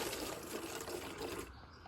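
Green citrus juice pouring steadily into a bowl, a continuous close liquid splash and trickle that thins out near the end.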